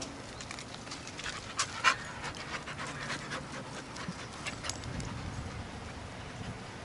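A dog pants softly and moves about nearby, with faint shuffles and footfalls over low background noise and no talk.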